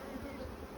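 Honey bees buzz around a beehive, a dense steady hum of many insects close by with no break.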